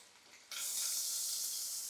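Finely chopped large onions drop into a hot pan for a simple home sambar and start sautéing at once, breaking from near silence into a loud, steady, close sizzle that lasts to the end.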